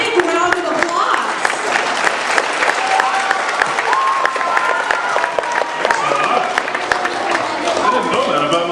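A packed audience claps steadily at a festival celebrity reading, with crisp individual hand claps popping out of a continuous wash of applause, a few cheers and murmuring voices mixed in, lasting several seconds.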